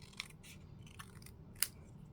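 Scissors snipping angled cuts into paper for a handmade card, a few short, close crisp snips spaced apart, quiet and alone with no talk.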